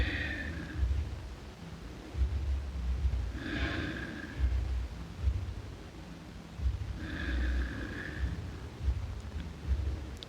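Slow, audible breaths drawn in and out while holding a yoga lizard lunge on blocks, three soft breath swells spaced a few seconds apart over a steady low background.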